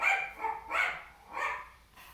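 Pet dogs in a home bark in three or four separated bursts, moderately faint and somewhat distant, with no talking over them.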